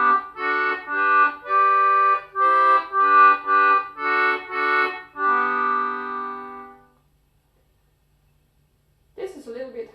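English concertina playing a tune in chords in G, a run of sustained, rich reedy chords with short breaths between them, close and clear, then a silence before a brief final sound.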